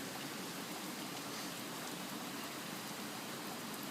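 Heavy rain pours down at night in a steady, hissing wash of broadband noise, constant and unbroken throughout with no voices.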